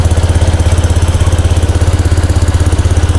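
A Honda Click 125 scooter idles just after an oil change, its engine putting out a loud, close, steady rhythmic putter that runs evenly without pause.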